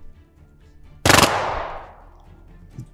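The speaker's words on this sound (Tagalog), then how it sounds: "Putok ng mga baril yun ah." A gunfire sound effect in an audio drama hits as one sudden, loud blast, followed by a long decaying rumble and echo. Quiet background comes before the blast and after it fades.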